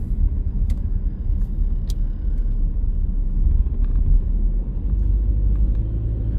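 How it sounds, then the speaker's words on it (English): A car rolls slowly along residential streets past a school in Paterson, a steady low engine and road rumble running throughout with a few faint clicks and no talking. "We're going to drive slowly."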